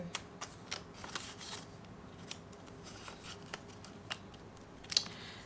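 Cash bills rustle and crinkle softly up close as they are folded and slipped into a budget envelope, a few faint papery clicks and swishes over quiet room noise.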